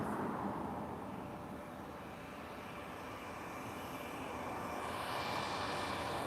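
A British Airways airliner being pushed back at Lisbon airport, a steady distant jet engine whine and rumble with broadband airport noise, swelling slightly toward the end.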